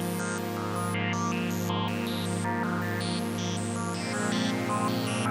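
A Waldorf Blofeld synth patch from the Solaris expansion bank holds a lush, sustained pad under a shimmering arpeggio of bright high notes, with slow modulation and no voices.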